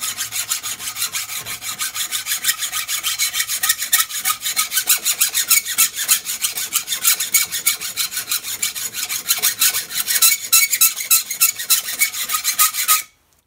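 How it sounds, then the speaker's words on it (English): A metal file scrapes galvanized coating off a steel edge in fast, rhythmic back-and-forth strokes, a loud, close rasp that runs continuously and then stops abruptly. "Okay, so I just filed down that galvanized coating on that outside edge."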